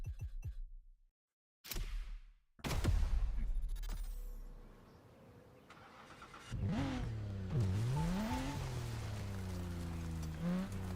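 Car engine in The Crew Motorfest racing game, revving and accelerating with rising and falling pitch sweeps and a steady loud drone, after a brief silent gap and some clattering, heard without speech.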